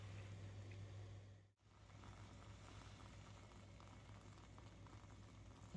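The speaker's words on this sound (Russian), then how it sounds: "Ждем, когда закипит джусай." A pot of water with jusai garlic chives simmers toward a boil for a Korean salad, a faint, steady bubbling hiss with a low hum, briefly dropping out before resuming.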